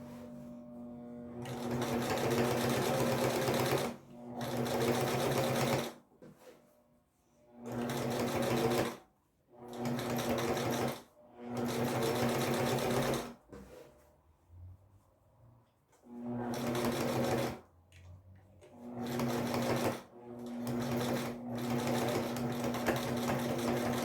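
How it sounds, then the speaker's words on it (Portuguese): Sewing machine stitching bias binding onto a patchwork baby quilt, running in several steady bursts of a few seconds each with brief pauses between, close and loud with no talking. "Retorno minha peça para a máquina. E termino a costura do meu viés"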